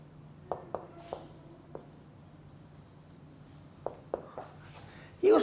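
Handwriting during a lecture, a few faint marker or pen strokes on a board in two short bursts, quiet room hum around them and a louder bump at the end.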